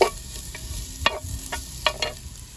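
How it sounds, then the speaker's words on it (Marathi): Onions frying in a clay pot over a firewood fire: a low sizzle under scattered scraping stirs and light knocks against the pot, close and fairly quiet. "तितून आमी आतां पियाव भाजया."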